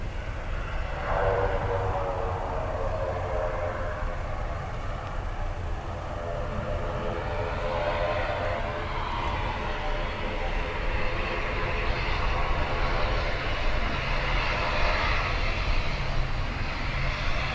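An ATR turboprop airliner at Dublin Airport gives a steady, loud propeller-engine drone with tonal whine, sustained throughout, under gusty crosswind conditions.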